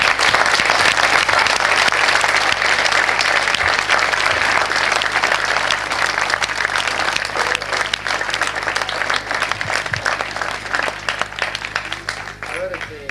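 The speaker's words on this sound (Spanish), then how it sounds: "Le demos un aplauso." An audience at a talk on love applauds the speaker, with a dense, continuous round of clapping from the crowd that stays strong for over ten seconds and thins slightly toward the end.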